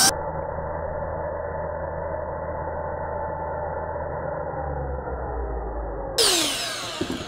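A Ryobi shop blower with a variable speed trigger runs steadily and loudly for about six seconds, a constant airy whoosh, then surges in a sharp, brighter burst of high-speed air near the end.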